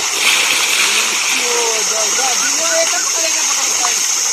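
Water churns and splashes steadily where people jump into a cold outdoor bathing spot, a loud continuous rush with brief bright splashes on top.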